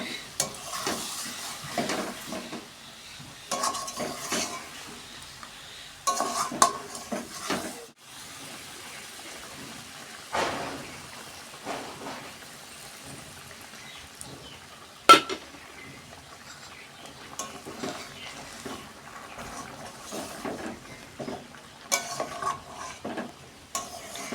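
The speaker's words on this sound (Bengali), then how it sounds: "এদিকে দেখো মাংস কষানোটা আমার প্রায় হয়ে এসছে" Mutton sautés in a pan with a soft sizzle while a spoon scrapes and clinks against the metal in irregular bursts, separated by quieter pauses, close by and without speech.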